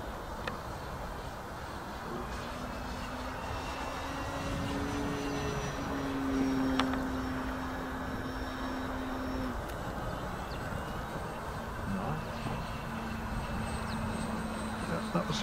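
A model FW190 airplane flies at just over half throttle, a steady distant engine drone that swells slightly midway, with faint voices of people talking underneath.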